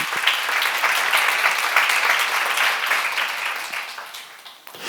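Steady applause from a large church seminar audience, dense clapping that holds for several seconds before tapering off.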